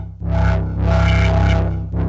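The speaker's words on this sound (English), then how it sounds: "is this distortion or fuzz? Yeah, it's fuzz." Polyend Tracker with a fuzz distortion effect, a loud buzzy, saturated synth tone that swells in two long pulses over a steady droning bass, heard alone.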